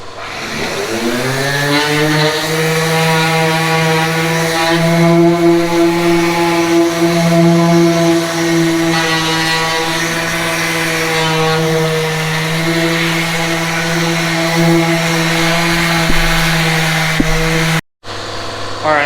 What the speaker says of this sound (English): I'm just going to go over everything with a DA on 180 grit, so the Bondo has something nice to stick to